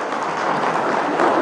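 Sustained applause from a crowd of women at an anniversary gathering of the Bartolinas confederation in Bolivia, a dense steady clatter of many hands, loud and close, with no talk over it.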